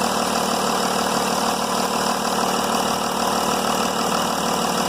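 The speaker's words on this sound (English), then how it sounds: "That causes the engine to start misfiring after you start the car." Mercedes E320 CDI diesel engine idling roughly and misfiring with its EGR valve plugged back in, a steady close mechanical drone with uneven knocking pulses and no voices.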